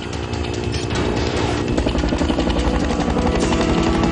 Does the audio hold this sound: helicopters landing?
yes